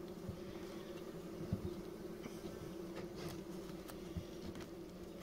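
Honeybees drone around a Kenyan top-bar hive, a close, continuous low hum with a few faint taps and knocks scattered through it.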